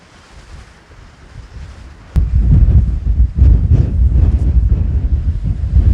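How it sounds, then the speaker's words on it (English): Strong wind over 30 mph gusting across a microphone outdoors, starting as a softer hiss and then jumping to a loud, steady rumbling roar with buffeting low-end thumps. "You can see how this wind is just blowing this shade cloth."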